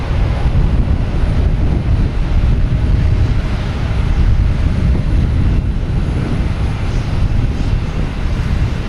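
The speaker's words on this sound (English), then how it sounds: "Looks like it's going to be lining up for 4 right, 737-800 heading to Chicago." American Airlines Boeing 737-800 jet lining up for runway 4 right at Boston Logan Airport, a loud, dense engine rumble holding steady throughout, close and dominant with no voices.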